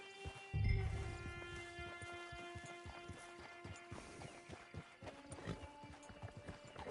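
Horse hooves clip-clop steadily in the Red Dead Online video game, a quiet, continuous patter of hoofbeats with a brief snort or whinny near the start and background game music underneath.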